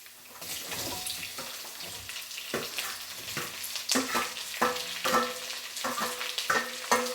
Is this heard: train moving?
no